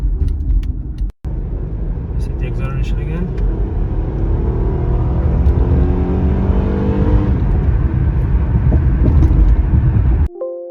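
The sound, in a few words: 2009 Acura TL car accelerating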